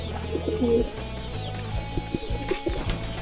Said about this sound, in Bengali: এই হচ্ছে আমাদের কবুতর ঘর